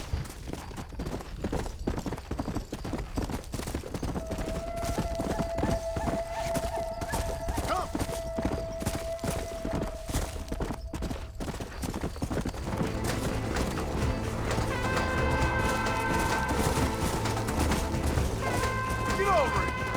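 Horse hooves clip-clop in steady rhythm in the Mexico setting of Red Dead Redemption, with occasional whinnies, game music and spoken voices layered over the continuous trotting.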